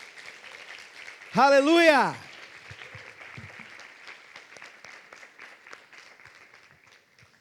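Church congregation clapping together in a sustained, moderately loud wash, opened by a single shouted exclamation before the applause carries on and gradually eases.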